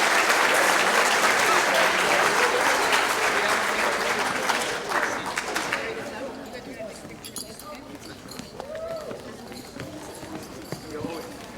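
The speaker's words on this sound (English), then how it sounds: "Round of applause for our lifetime chargers." Audience applause for lifetime award honorees at a sports awards ceremony, loud sustained clapping that fades out midway, leaving a quieter room with scattered sounds.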